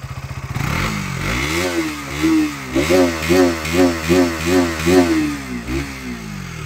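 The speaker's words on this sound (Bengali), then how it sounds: "ইঞ্জিনের আওয়াজটা আপনাদের একবার শোনায়" A KTM Duke 200 motorcycle engine starts with a rapid putter, then revs up and down repeatedly in rhythmic surges, loud and close.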